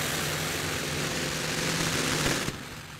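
Big 18-cylinder radial engine on the pulling tractor Boomerang at a tractor pulling event, a loud steady roar with deep low rumble held throughout, then a sharp bang near the end.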